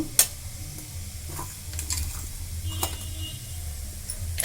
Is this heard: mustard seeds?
yes